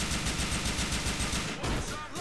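Gunfire in Grand Theft Auto: The Lost and Damned, a loud, rapid burst of automatic shots rattling in quick succession, dense and continuous, that breaks off briefly near the end.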